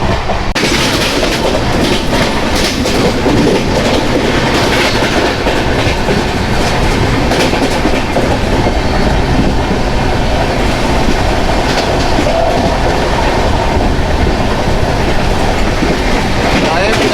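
A Mumbai local train rolls steadily along the rails near a car shed with a rhythmic clickety-clack, loud and close, a continuous rumble throughout.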